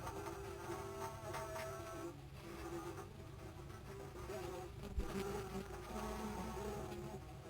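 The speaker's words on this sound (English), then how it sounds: "A swarm of bees can produce loud buzzing sounds with their beating wings." A swarm of bees from a Sega CD encyclopedia's animal sound library produces a dense, continuous buzzing drone from beating wings, steady and loud throughout.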